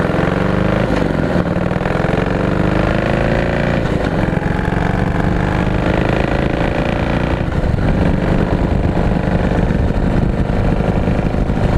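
A 2017 Harley-Davidson Heritage motorcycle cruises in fourth gear at about 60 mph, its engine giving a loud, steady drone with wind rush that holds evenly throughout and a slight rise in pitch partway through.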